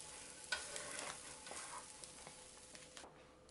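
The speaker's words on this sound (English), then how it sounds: "turn off the heat and remove this into a bowl" Cooked corn kernels scraped and stirred out of a pan into a bowl, faint scraping and light clatter with a soft sizzle underneath, quiet and close with no talking.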